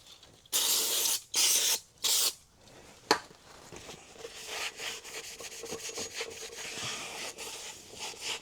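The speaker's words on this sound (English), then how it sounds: "Brake cleaner, brake cleaner, brake cleaner." Three loud hissing bursts of brake cleaner spray hit rear drum brakes on a Chrysler Newport, followed by a softer stretch of rhythmic rubbing and scraping, close up.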